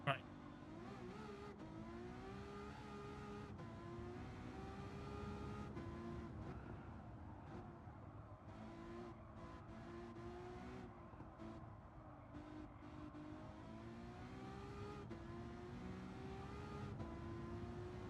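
Race car engine held at full throttle in Gran Turismo 7, a steady loud drone with rising and falling pitch as the car shifts and accelerates, continuous for the whole stretch with speech over it.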